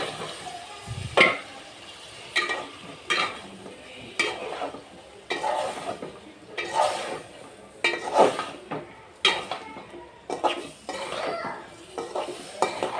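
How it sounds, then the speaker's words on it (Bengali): Ridge gourd, potato and eggplant are stirred in a sizzling pan, a spatula scraping and clattering against metal in regular strokes every second or so over a low frying hiss, close by with no talk. "সবজিটাকে একটু নেড়ে চেড়ে দিলাম"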